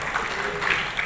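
A brief burst of scattered clapping from a seated audience at an Indonesian business training session, thin and patchy for about a second.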